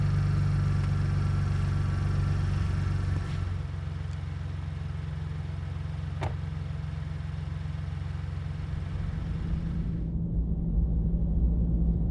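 A truck engine idles in a mountain setting on a late-season hunt, a steady low rumble throughout with a brief faint click partway through and no voices.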